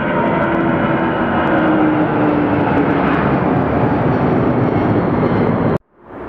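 An airplane passing over Atlanta Hartsfield airport, a loud sustained engine roar that holds steady for several seconds before cutting off abruptly near the end, with no talk.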